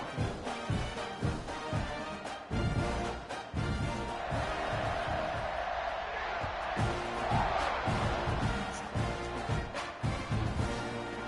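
Stadium crowd roaring at a Texas A&M college football game before a kickoff against Mississippi State, a broad sustained cheer under game commentary, with sharp thuds punctuating it.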